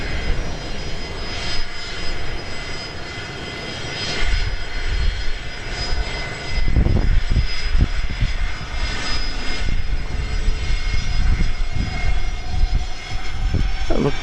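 An aircraft arriving at Dallas Love Field on a west side approach, a loud sustained engine roar that swells and rumbles steadily, heard in the open without voices.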